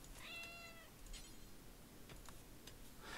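Faint cat meows in the game RimWorld, one clear drawn-out meow near the start followed by quieter scattered calls over a soft steady background hiss.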